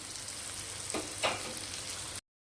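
Partly boiled potatoes being stirred and sautéed in oil for a chhana kofta curry, a soft sizzle with two brief scraping stir strokes before the sound cuts off.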